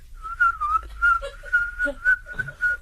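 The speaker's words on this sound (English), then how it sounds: "That's me whistling." A person whistles a steady, wavering tune in short phrases, fairly close and clear, with faint background noise.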